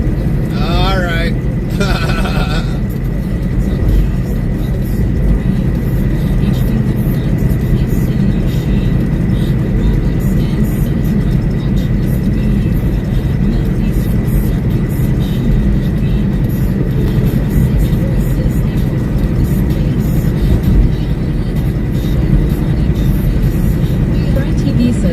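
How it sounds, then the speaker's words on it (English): Steady interstate highway traffic roars past a semi truck on a Wisconsin delivery route, a continuous broadband rumble of passing vehicles, loud and unbroken throughout, with a voice briefly at the start. "It's interstate traffic."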